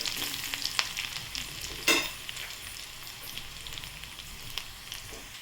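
Garlic sizzles in hot oil in a pan, a soft, steady crackling fry at close range with a few louder pops and stirring sounds, with no talking.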